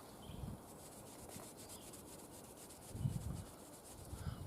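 An abrasive eraser block, about 600 grit, rubs back and forth against the steel blade of a Cold Steel Trailmaster knife, making faint, close scratchy strokes that swell at the start and again near the end.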